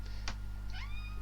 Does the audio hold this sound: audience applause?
no